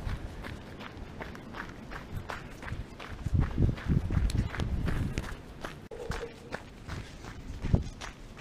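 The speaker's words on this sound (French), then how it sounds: "on va repartir à courir" Trail runner's footsteps pounding along a coastal trail on Île d'Yeu, a quick regular rhythm of close, crunchy strikes that grows heavier midway, with no talk.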